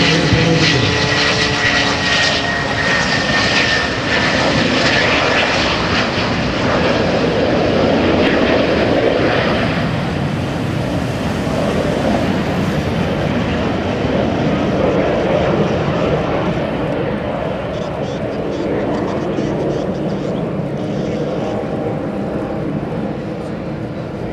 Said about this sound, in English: 2 jets that make up Team MS760 with their smoke on. As they come in overhead